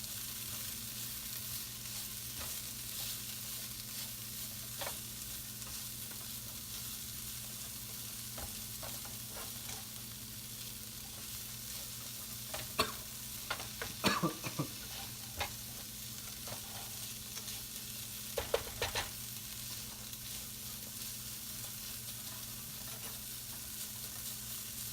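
Garlic fries in a pan for menemen, Turkish scrambled eggs, giving a steady, close sizzle throughout with occasional stirring scrapes and clinks. No voices are heard.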